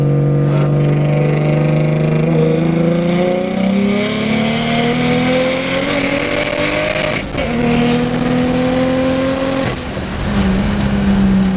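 A turbocharged car running 20 PSI of boost accelerates hard, its engine note climbing loudly and steadily with two brief dips at gear shifts before it pulls up again, close and dominant.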